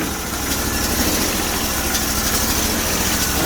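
A 20 HP Bolens 1600H Hydro tractor engine idles with the choke just turned off. It is a steady, loud, close-up rumble with an even vibrating drone that does not change.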